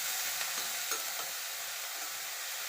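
Thinly sliced raw banana frying in a pan: a dense, steady sizzle runs throughout, with a few soft clicks of stirring near the start and no voices.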